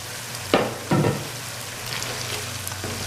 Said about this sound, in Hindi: मज़ीद इसको 5 से 6 मिनट के लिए अच्छी तरह ऑयल में भून लेंगे